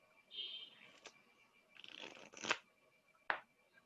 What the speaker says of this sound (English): You're going to shuffle it, and I'll have to just memorize one card.